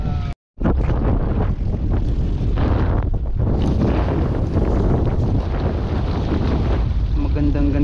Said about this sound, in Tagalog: Magandang ganito mahangin-hangin, mga nakanakang alon.